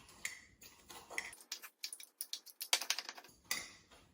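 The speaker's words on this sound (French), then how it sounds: "on casse le biscuit avec le lait" Oreo biscuits being broken up with a spoon in milk inside a mug, a run of sharp, close clicking and tapping knocks against the ceramic in quick irregular bursts, with no talking.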